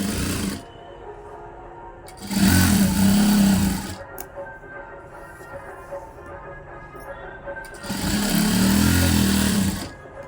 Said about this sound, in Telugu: ఇలా మొత్తం స్టిచ్ చేసేసుకోవాలి